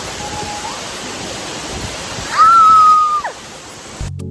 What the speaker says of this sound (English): Sari Waterfall. The water is cold, but another spectacular waterfall.